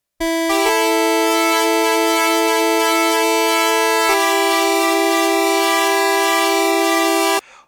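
A steady, buzzy single-oscillator tone from a Black Corporation Xerxes synthesizer with a bright harmonic stack that shifts pitch twice before cutting off abruptly, loud and alone.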